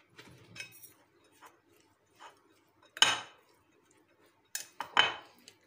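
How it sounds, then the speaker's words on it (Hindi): A spoon stirs vegetable roll filling with soy sauce and vinegar in a bowl, giving sparse, sharp clinks and scrapes, with louder knocks near the middle and end in an otherwise quiet kitchen. "आज ये सारी चीज़ें हम अच्छे से मिक्स कर लेंगे।"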